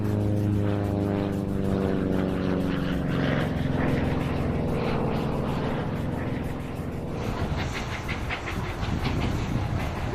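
A propeller airplane, an old wartime-style aircraft, drones loud and steady with a deep harmonic engine hum that shifts and roughens near the end, with no talking.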